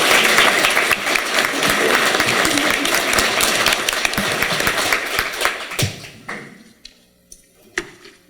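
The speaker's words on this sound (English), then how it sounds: "Round of applause for all the candidates in this riding." A crowd at an all-candidates debate in Calgary Foothills gives a loud, dense round of applause that holds for about six seconds. It then thins to a few scattered claps and thumps.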